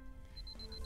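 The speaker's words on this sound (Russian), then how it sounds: "Перестань пищать." Rapid electronic beeping from the video game UnEpic: a quick run of about five short, evenly spaced high-pitched pulses, fairly faint over a low background hum.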